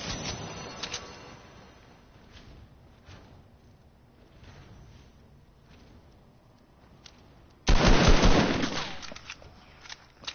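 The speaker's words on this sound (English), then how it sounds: "Everybody shooting a hunting rifle at me." Hunting rifle shots ring out in a video game, several sharp cracks spaced apart at first, then a loud close burst of fire near the end.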